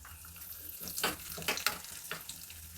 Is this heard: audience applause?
no